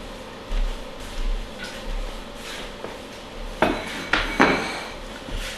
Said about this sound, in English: you're gonna put this into a greased casserole